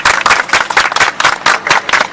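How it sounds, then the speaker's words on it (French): Loud, steady clapping in a quick even rhythm, close by, like a small group applauding, with no one speaking. "Applaudissez"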